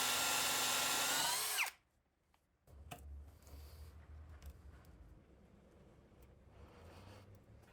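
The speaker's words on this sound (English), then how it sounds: "I tested out using a countersink and plug on a scrap piece of cherry to see if this was a good idea for mounting them" A drill bores a countersink into a scrap piece of cherry wood with a loud, close, high whine that stops abruptly after under two seconds, leaving a low, quiet rumble and faint workshop noises.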